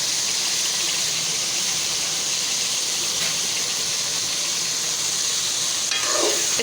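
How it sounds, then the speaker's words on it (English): Minced meat for bhuna qeema fries in oil while being stirred, making a dense, loud, even sizzle throughout with a brief spoon scrape toward the end. "Stir it more for 5 minutes."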